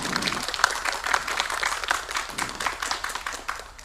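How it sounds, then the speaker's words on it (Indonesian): A group at a primary school event claps continuously with a brisk, scattered rhythm, moderately loud and close. "Tepuk tangan untuk Dindiput Demak."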